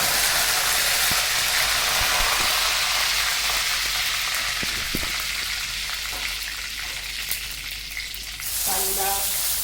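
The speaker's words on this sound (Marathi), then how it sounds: "तेल छान गरम झालेलं आहे। त्यामध्ये मोहरी, जिरे," Mustard seeds, cumin and curry leaves sputter and crackle in hot oil in a pan, a loud, steady sizzle with scattered pops, briefly easing before surging again near the end; no voices.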